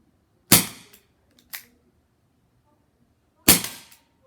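A Crosman SNR 357 air revolver fires three sharp, close shots outdoors, two in quick succession about a second apart and a third after a pause, each a crisp crack with a brief tail and near-silence between.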